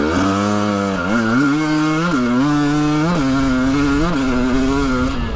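Husqvarna TE300 dirt bike engine rolling back onto the throttle on slippery terrain, loud and close, revving up in repeated surges and dropping between them, with no talk.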